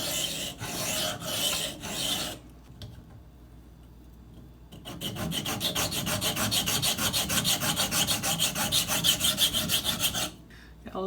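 A Cold Steel Recon 1 knife edge is drawn across a sharpening stone in quick, repeated rasping strokes, a short burst, a pause, then a longer, steady run of close scraping passes.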